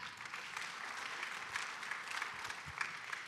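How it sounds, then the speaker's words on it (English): Audience applause after a speaker's call for a round of applause, a steady even wash of many hands clapping at moderate distance, fairly quiet, continuing throughout with no talk over it. "Let's get a round of applause for that."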